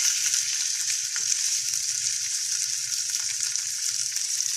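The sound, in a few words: shallow frying fish in coconut oil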